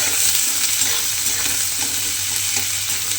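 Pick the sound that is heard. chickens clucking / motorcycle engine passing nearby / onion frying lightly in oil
onion frying lightly in oil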